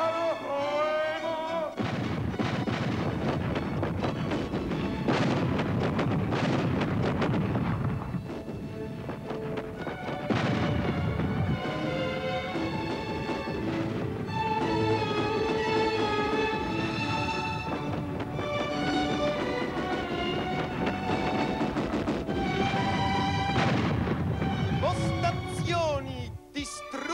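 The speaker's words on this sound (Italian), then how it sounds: "La zona d'avvicinamento è battuta da un bombardamento a tappeto!" Staged artillery bombardment sound effect in a theatre production of Karl Kraus's war drama, loud sustained booms and rumbling blasts layered with shouting voices and horse-like noises, dense and continuous throughout.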